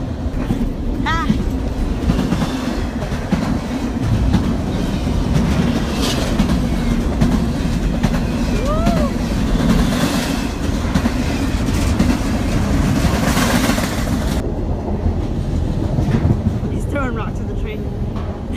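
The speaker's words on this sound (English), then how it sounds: "We Almost Got Hit by a Train" A train rushes past on railway tracks very close by, with loud continuous rumbling, clickety-clack wheel rhythm and occasional squeals of metal, while voices shout and talk over the noise.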